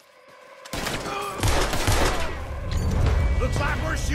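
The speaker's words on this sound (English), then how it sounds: "Looks like we're shooting our way out of here, fellas" A gunfight breaks out in Red Dead Redemption 2 after a quiet opening moment, with loud, near volleys of rifle and pistol fire layered under shouting voices.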